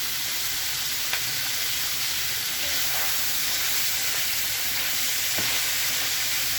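Beans charros cooking in a pan give off a steady, close sizzle and frying hiss that runs without a break, with faint scraping now and then.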